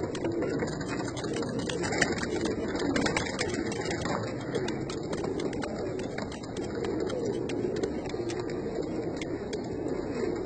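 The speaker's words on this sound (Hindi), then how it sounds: "सुर्खे तांबड़े कबूतर है, नीली आँखों के भी हैं" Red Pakistani pigeons cooing in a loft, soft repeated low coos overlapping at close range under a constant mechanical hum, with no talking.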